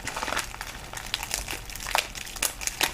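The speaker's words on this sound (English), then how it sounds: "I will carefully cut into the plastic here and operate it open." Plastic packaging being cut and pried open by hand, with close crinkling and crackling bursts of rustling plastic scattered unevenly throughout and no talk.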